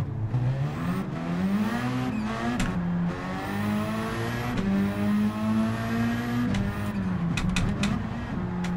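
Racing video game car engine driven with a Logitech G Pro wheel, a steady loud engine drone rising and falling in pitch as it revs and shifts, with brief tyre squeal near the end.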